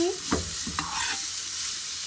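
Garlic, salt, oregano and black pepper sizzle in a hot frying pan while being stirred, with a couple of close scraping strokes over a steady bright frying hiss.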